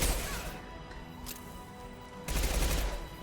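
Gunfire in Mass Effect 2 crackles in quick bursts, a loud close flurry at the start, a quieter stretch, then another heavy burst of shots near the end, with no talk.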